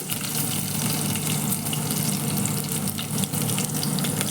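Chana dal and garlic frying in hot oil for a tempering in an Andhra-style buttermilk soup, a steady, loud, close sizzle that runs unbroken with no talking.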